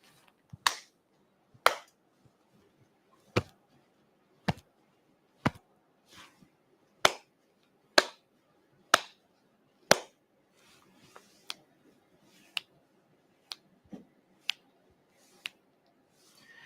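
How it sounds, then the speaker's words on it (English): Hand claps and finger snaps ring out one at a time, each a crisp isolated strike. About sixteen come in an uneven counting rhythm, with short pauses between groups, close and clear against near silence. "I'm going to clap and snap out a number"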